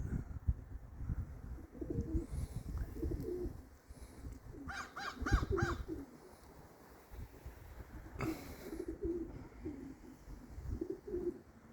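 Pigeons or doves cooing and calling near a flock in flight, soft repeated coos over a low, steady rustling background, with a brief cluster of sharper calls midway.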